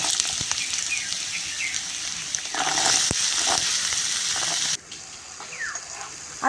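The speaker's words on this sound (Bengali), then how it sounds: "আলুটা এখন কড়ার মধ্যে দিয়ে একটু ভালো করে ভেজে নেব" Diced potato cubes fry in hot oil in a kadai, a loud, continuous close sizzle with brief stirring clatter throughout.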